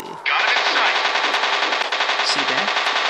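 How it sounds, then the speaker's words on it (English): A bomber's rear-mounted gun fires in the War Planes video game, a loud, close, unbroken rapid burst of automatic fire lasting about three seconds with no talking over it. "the cool thing about the bombers are that they have like a gun at the back."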